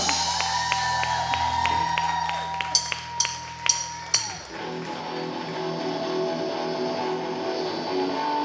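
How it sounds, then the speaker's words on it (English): Audience applause and cheering for a band at a live show, a broad crowd roar that swells in as the band's music stops and carries on steadily to the end. "please, big round of applause for the ones they call"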